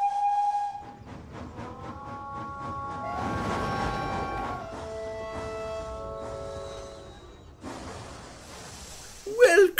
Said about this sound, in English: Duke was preparing to take the first train of the day when he heard a whistle.